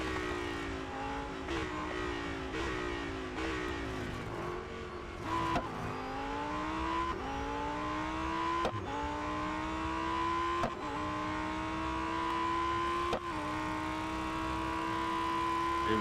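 A fully upgraded Lamborghini Huracan STO racing in the mobile game Real Racing 3, its engine revving hard through repeated gear shifts, each climb in pitch cut by a sharp drop, loud and continuous.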